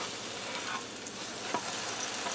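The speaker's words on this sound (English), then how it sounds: "Now I'm going to let them continue to fry on this side for a few minutes so they get golden brown on the other side" Corned beef melt sandwiches fry in a pan, a steady close sizzle and crackle of hot fat running evenly throughout with small pops, no voices.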